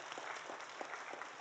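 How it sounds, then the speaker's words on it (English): Applause from an event audience for five startup founders at a finance-sponsored pitch competition, a steady wash of clapping that stays even and moderately quiet across the whole moment. "Let's give them a big round of applause."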